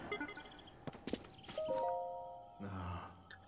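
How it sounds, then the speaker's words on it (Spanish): A bell tolls in the Temple of Time in The Legend of Zelda: Tears of the Kingdom, with ringing struck tones that hang and decay over a few seconds, fairly quiet, among scattered game thuds and footstep-like knocks. "La campana del Templo del Tiempo suena a horas fijas durante el amanecer y el ocaso."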